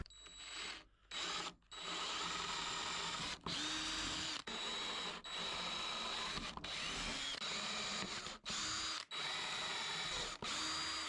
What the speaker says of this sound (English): I'm going to drill my new holes for these new handles I've spray painted.